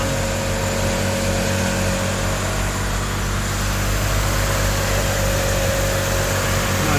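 A 1977 Toyota Celica RA28 idling with a newly installed radiator and its cooling fans running, a steady close engine drone with a constant fan whir and a faint tonal hum, no talk.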